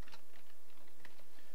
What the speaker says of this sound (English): Let me just type QPSD.